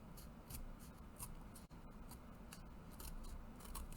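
Scissors trim excess paper off a handmade birthday box card, quiet snipping cuts close by against a faint steady background hiss.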